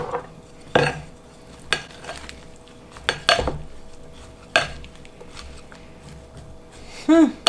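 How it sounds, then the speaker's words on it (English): Whole wheat orzo pasta being stirred in a bowl, giving a series of sharp utensil clinks and scrapes against the dish at irregular intervals, close and fairly quiet, with a brief voice near the end. "let's stir this up."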